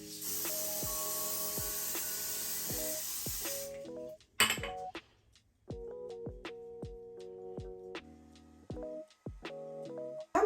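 Short hissing bursts of wig spray from an aerosol can, fired in several quick spurts, with light clinks and faint musical tones running underneath.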